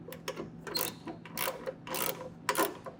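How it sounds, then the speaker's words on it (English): A ratcheting wrench tightens bolts on a Curt trailer hitch receiver fitted to a 2019 Toyota RAV4, giving rapid clicking ratchet bursts in short, repeated strokes, close and distinct, with no talking. "if you happen to have a ratcheting wrench like this, definitely makes things a little bit faster"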